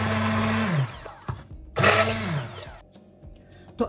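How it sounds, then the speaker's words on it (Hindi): A blender jug purees mango chunks, its motor whirring loudly in two bursts, spinning up and winding down with a pause in between and a short clatter near the end. "आप आम डालेंगे और ब्लेंडर जग को आप चलाएंगे तो उससे इसकी प्यूरी रेडी हो जाएगी आम की।"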